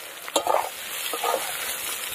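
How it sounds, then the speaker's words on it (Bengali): Chopped onions hit potatoes already frying in a pan for a cabbage and pakal fish dish, giving a steady close sizzle with a couple of brief stirring scrapes and no voices. "এই যে আলু সব ভাজা হয়ে গেছে, কুটিয়ে রাখা পেঁয়াজ দিয়ে দেবো।"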